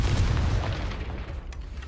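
Confringo spell blast in Hogwarts Legacy: a single heavy, booming explosion that hits hard at the start and rumbles as it fades over a couple of seconds.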